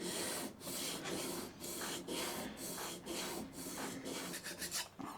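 A knife is sharpened freehand on a stone to remove the burr, giving quiet, rhythmic rasping strokes roughly twice a second with brief gaps between passes. The scraping is close-up and there is no talk.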